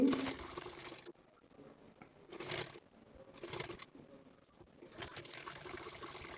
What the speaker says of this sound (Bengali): ডবল সেলাই দিয়ে দিচ্ছি।